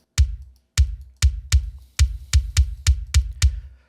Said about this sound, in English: So this is the Joe Wanasek kick,